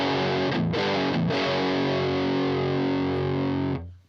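Heavily distorted electric guitar through a Line 6 Helix Doom amp model, a thick, hairy sustained chord with two brief chugging breaks, ringing loud and close before cutting off sharply.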